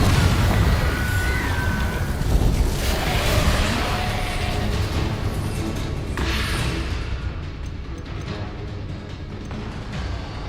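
A Confringo spell blast in Hogwarts Legacy, with loud booming bursts and rumbling crackle over dense combat noise that gradually eases toward a softer, duller tail.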